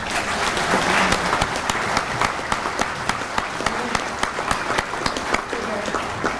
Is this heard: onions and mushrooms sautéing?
no